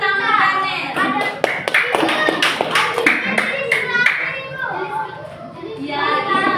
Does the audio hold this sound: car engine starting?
no